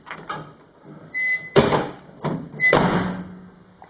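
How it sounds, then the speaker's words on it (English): The door of a 1940s GM car is worked open, giving several close clunks and thuds with metallic latch clicks spread over a few seconds, with no talking. "I open the door,"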